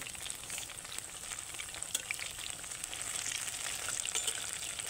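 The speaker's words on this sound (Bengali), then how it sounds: "হালকা যখন ভাজা হয়ে এসছে সবগুলো উপরে উঠে গেছে" Gourd leaf rolls coated in gram flour batter fry in deep oil, giving a steady, even sizzle with fine crackling bubbles throughout, close and continuous, with no voices.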